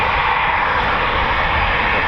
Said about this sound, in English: Got two Typhoons taxiing now.